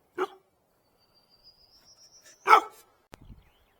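Tank, an upset dog, gives two sharp separate barks a couple of seconds apart, fairly close, with quiet outdoor background and no talking.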